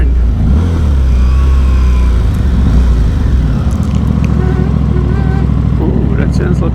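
Aprilia Tuono 660 motorcycle engine on the move: a loud, gritty engine roar that rises and falls as it revs, with wind rush and a rider's voice talking over it.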